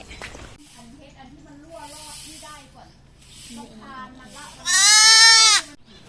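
Sheep bleating on a farm in Chiang Khan, a loud bleat up close near the end after softer calls, with someone talking through much of it.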